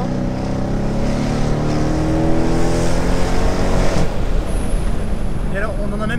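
A Dodge Challenger R/T muscle car's V8 engine droning steadily while cruising, a deep rumbling tone that shifts and eases off partway through, heard from inside the car at close range.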